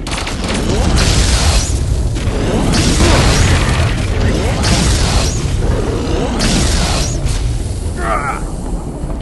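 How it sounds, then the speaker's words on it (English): Rocket launcher blasts in the shooter game Vivisector: about five heavy, booming explosions land roughly every second and a half over continuous loud rumbling battle noise. "You had a rocket launcher."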